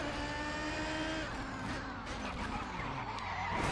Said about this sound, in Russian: И на скорости каким-то образом развернул нашу машину